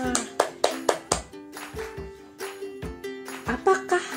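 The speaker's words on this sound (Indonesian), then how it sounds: "Tepuk tangan untuk kita semua." A group of children clap their hands together in a steady rhythm of sharp, close claps, pausing briefly and then picking up again, with some tonal singing or voices faintly mixed in.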